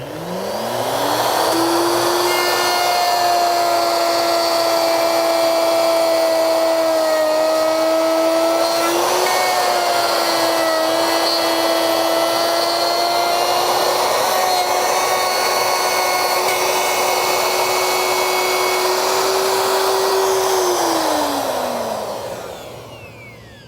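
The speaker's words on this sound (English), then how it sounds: "So now when I route this groove, this dado rather, it'll come up, bump against the stop block" A router with a round bit cutting a stopped dado groove in plywood, a loud sustained high whine that spins up, holds steady for about twenty seconds while cutting, then winds down.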